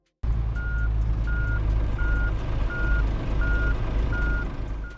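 A heavy truck reverses in the Truckers of Europe 3 driving game, its steady backup alarm beeping in an even rhythm over a constant low engine drone.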